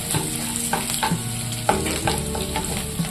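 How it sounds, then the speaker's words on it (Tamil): Onions frying in oil with a constant sizzle, broken by several scraping, clinking strokes of a spoon stirring the pan. "வெங்காயம் நல்லா கண்ணாடி பதத்துக்கு வதங்கிடுச்சு"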